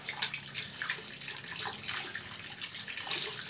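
Tap water running to rinse off shaving soap, a close splashing hiss of water hitting and spattering, steady with small fluctuations over a few seconds.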